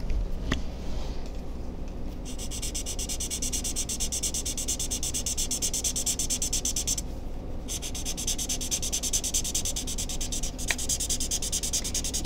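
A Chameleon bullet-nib marker, feeling somewhat dry, scratches across paper during a swatch test, making a steady close rubbing squeak that pauses briefly once, with no speech.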